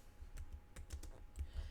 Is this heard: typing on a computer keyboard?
yes